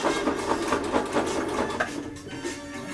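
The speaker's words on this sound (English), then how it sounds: "let's sew this thing on and see how it goes" A sewing machine stitching through a thick thrifted sleeping bag being upcycled into a coat: a steady rapid mechanical chatter of needle strokes, close and continuous, with no voices.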